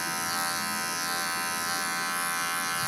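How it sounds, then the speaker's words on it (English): Electric dog clippers fitted with a 10 blade shaving a poodle's tail, a steady close buzzing hum that runs without a break. "now I shave backwards, and I'm using a 10 blade because I don't want to shave too close"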